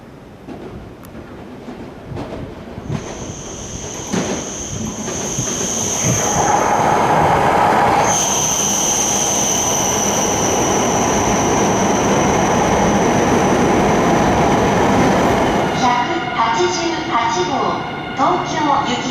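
A coupled Tohoku Shinkansen train of fifteen cars pulls into Utsunomiya station, a loud sustained rush and whine building and holding on the platform, with a station announcement speaking over it and a shift in tone near the end.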